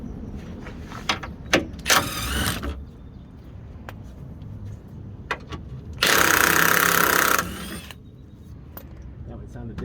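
An impact gun loosens 15mm bolts from a plate during accessory belt work on a Chevy Suburban, firing two loud rattling bursts, one brief and one longer, over quieter clinks and workshop noise.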